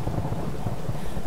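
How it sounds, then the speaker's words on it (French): Thunderstorm in the Tomb Raider Definitive Edition video game, a dense continuous rumble of thunder with rain and wind, loud and unbroken. "Ah, cet orage."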